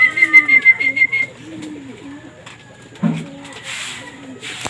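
Young pigeons leaving their loft give soft repeated coos and whistly calls close by, with a few sharper rustles and a short burst of noise midway.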